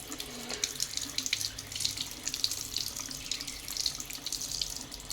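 Water runs steadily from a faucet into a sink, a close, continuous splashing rush that lasts the whole time with no voices.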